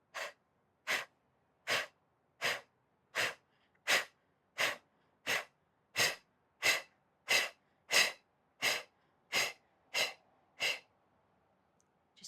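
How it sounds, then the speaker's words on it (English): Short, sharp exhales through the nose during a breathing exercise, about sixteen forceful bursts in a steady, even rhythm of roughly one per second, close and clear with silence between them. "Inhale and short, sharp exhales."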